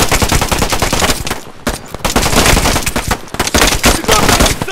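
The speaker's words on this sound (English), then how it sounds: "And I shot him in the back." Rapid, loud automatic gunfire in a video game, dense bursts of shots with brief pauses, close and dominant, with a voice faintly underneath.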